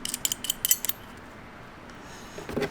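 A wrench tightens an ARB air chuck fitting on a Jeep compressor mount with a quick run of light metallic clicks, then quiet, then a faint scrape at the end, all close up.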